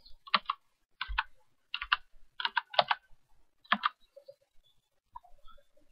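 Bursts of key presses on a Corsair Vengeance K95 keyboard, close and crisp, in quick uneven clusters with short pauses between them while a macro name is typed.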